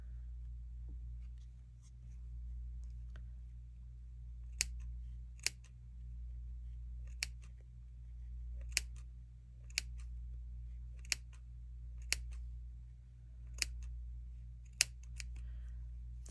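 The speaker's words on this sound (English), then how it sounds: "I'm just going to cut just up to where those little dots are." Scissors snipping a plastic pill bottle, about a dozen crisp separate clicks spaced irregularly at close range over a low steady hum, with no talk.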